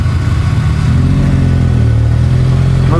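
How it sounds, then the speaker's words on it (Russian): A GAZ-66 off-road truck's engine revs loud and close, a constant heavy mechanical roar that climbs toward the end while the truck works through deep water on an off-road course. "Шишига, говорю, газует!"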